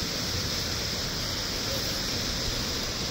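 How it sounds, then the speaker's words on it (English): Steady broadband rush of a waterfall near a forest hiking path, a constant wash of water noise with no breaks, moderately quiet and continuous throughout. "hear a waterfall right next to it"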